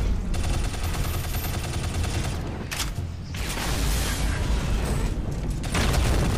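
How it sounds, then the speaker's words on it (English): Walker mech firing its super gun in the Shadow Complex video game, a loud, dense, continuous roar of rapid blasts and mechanical rumble that dips briefly near the middle and then surges again. "We got an ATT walker with a super gun."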